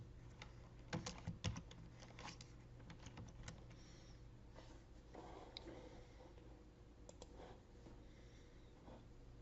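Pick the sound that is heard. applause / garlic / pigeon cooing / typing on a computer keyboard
typing on a computer keyboard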